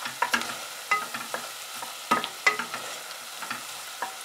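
Onion softening in a pan for butternut squash soup gives a faint, quiet sizzle under irregular clicks and scrapes from a stirring utensil, with no talking.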